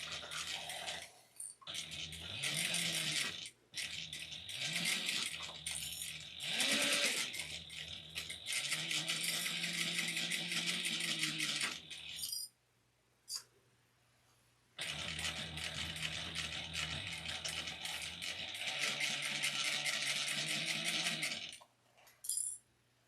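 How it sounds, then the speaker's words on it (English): A sewing machine stitches a small fabric wristlet at a 3/8-inch seam, running in several long bursts with brief stops between them, close and steady, with no talking. "just make sure you're sewing this part at 3/8 of an inch"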